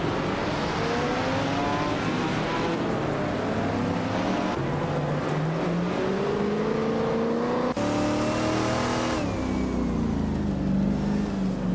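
A 1968 Dodge Dart Hemi Superstock racing engine in a video game race roars among other cars, with pitch climbing through gears and abrupt shifts, loud and continuous without speech.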